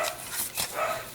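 A dog barks roughly three times in quick succession, a short sharp burst at moderate distance.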